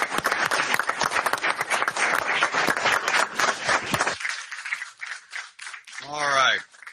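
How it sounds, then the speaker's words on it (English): Loud, dense clapping from attendees at a borough council meeting honoring a retired police officer, lasting about four seconds before fading out, followed by a brief spoken voice. "Give her a round of applause."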